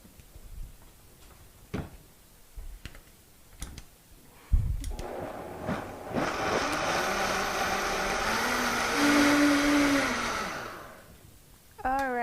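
A blender whirs loudly and steadily for about six seconds, pureeing soup ingredients with cooked corn. A few sharp clicks and taps come before the motor starts, and it winds down near the end.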